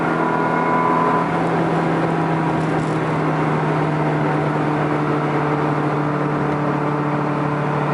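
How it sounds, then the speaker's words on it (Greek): A Ferrari 360 Modena engine drones steadily from inside the car, a sustained rumble with a slight rising whir rather than a sharp rev, continuous throughout. "Μπράβο, πάτα γκάζι. Πάτα, πάτα, πάτα."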